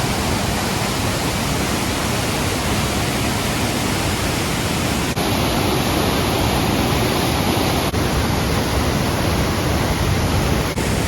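Roaring waterfall beside an old church in a Norwegian fjord, a dense, loud, unbroken rush of falling water close by, steady throughout with no voices.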